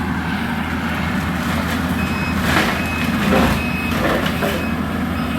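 Reversing beeps sound repeatedly over the steady rumble of a skid steer running a bush hog mower during storm cleanup, close and loud throughout with no talk.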